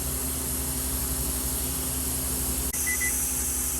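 During pressure canning of homemade chicken broth, a kitchen timer gives two or three short, high beeps late on, over the steady hiss of a venting canner.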